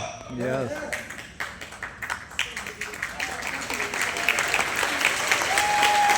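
Audience applause at an RCM business meeting, a dense burst of many hands clapping that swells and continues steadily near the microphone, with a voice briefly heard over it at the start.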